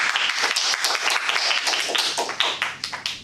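An audience claps at a Toastmasters meeting: a dense run of quick, irregular hand claps at close range that thin out and turn more scattered toward the end.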